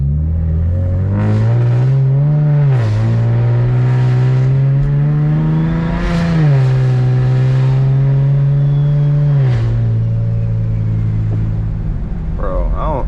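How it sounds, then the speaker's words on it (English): BMW 335i with a big Borg Warner turbo running on E85, engine droning loud and close while it repeatedly builds and drops revs with rising turbo spool, a voice talking over it throughout. "Borg Warner spool is the best sounding spool, bro. It's the best sounding turbo, in my opinion"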